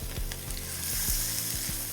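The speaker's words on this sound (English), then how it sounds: "You can hear it sizzling" Steady, bright sizzling of black cod frying skin side down in a hot pan, close and continuous, with faint pops and crackles and no talking.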